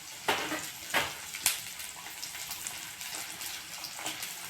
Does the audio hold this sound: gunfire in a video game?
no